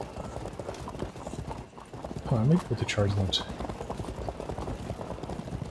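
Rhythmic clip-clop of galloping horse hooves in the strategy game Field of Glory II: Wolves at the Gates, steady and fairly close, with someone talking over it and a brief whinny.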